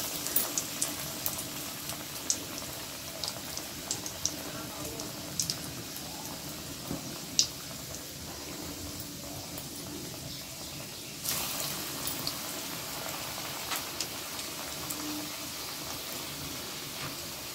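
Chicken lollipops dropped into hot oil in a wok sizzle and bubble steadily throughout, a continuous crackling hiss with small pops that grows slightly denser toward the end.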